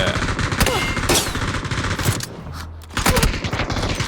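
Rapid bursts of M249 machine gun fire crack out at close range in PUBG, loud and dense, with several clustered volleys and a short lull before the shooting resumes.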